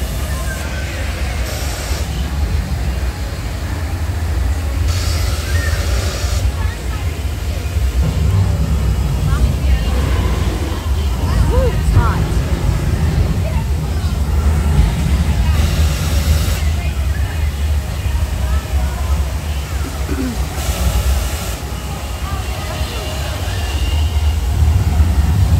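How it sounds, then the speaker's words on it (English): Misting rainforest effects hiss around a moving animatronic crocodile in a Disney shop, with bursts of spray over a constant low rumble of machinery and store noise, and people talking over it. "The crocodile's moving and the rainforest thing is going off."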